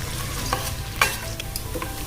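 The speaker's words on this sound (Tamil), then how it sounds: "வெங்காயத்தை நல்லா வதக்கிக்கலாம்." Onions sizzle steadily in ghee in a hot pan, close up. A utensil stirs them now and then with occasional scraping taps.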